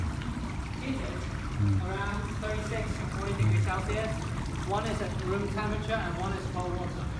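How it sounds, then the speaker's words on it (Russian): Water rushes steadily through a recycling plant's purification system, a continuous broadband wash with a constant level, while people talk over it throughout. "вода, которая очищается на заводе"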